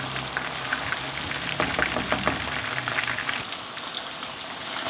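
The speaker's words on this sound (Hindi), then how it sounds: "चिकन फ्राई हो चुका है" Chicken tikka sizzles in a pan over medium heat, giving a soft, steady crackle with scattered sharper pops, heard close and alone.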